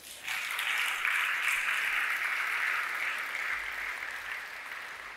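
Church congregation applauding together during a Sunday service, a steady broad wash of clapping that holds for several seconds before easing slightly, close and full with no voices over it.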